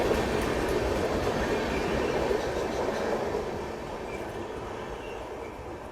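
Shri Jagannath Express arriving at Balasore station in India: a steady, broadband rolling rumble of the train's wheels and cars runs throughout, loud at first and easing slightly toward the end, with no talk.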